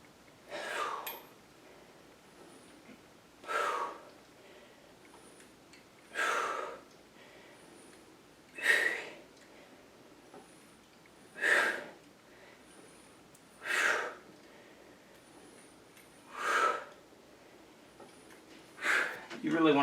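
Heavy, forceful breaths during weight training, sharp exhalations repeating in a steady rhythm roughly every two to three seconds, close and fairly loud against a quiet background.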